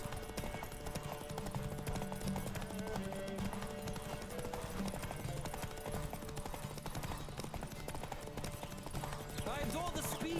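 Hooves clip-clop at a steady galloping rhythm during a horse race in The Witcher video game, under continuous loud music and game sound effects.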